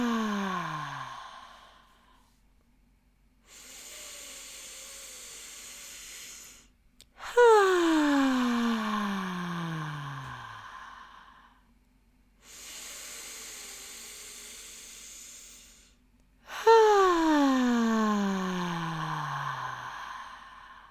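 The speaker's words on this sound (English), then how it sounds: "take 3 deep breaths" Three slow, deep breaths drawn in and let out, each a soft airy inhale followed by a longer sighing exhale, close and alone with quiet pauses between.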